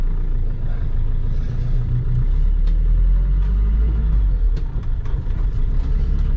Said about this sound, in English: Right, handbrake off, in first gear.